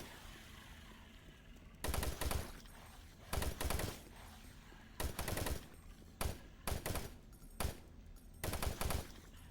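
A machine gun fires in the shooter game Doom 3, rapid bursts of loud automatic gunfire repeating in several short volleys with brief pauses between them.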